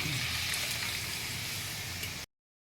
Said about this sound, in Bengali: এবার জলটা দিয়ে দিচ্ছি